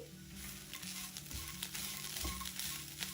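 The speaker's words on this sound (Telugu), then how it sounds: "కొబ్బరి వేగాక లాస్ట్గా 2 వెల్లుల్లి గబ్బాలను వేసి వేయించుకోవాలి." Grated fresh coconut and two garlic cloves frying in a pan for a chutney: a steady close sizzle with repeated scraping stir strokes, continuous and alone with no speech.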